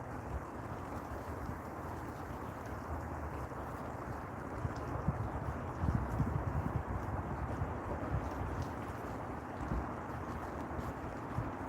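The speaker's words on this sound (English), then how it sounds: "that wind sounds like a tornado" Steady wind roars and buffets the microphone with a constant low rush, swelling into stronger gusts at times.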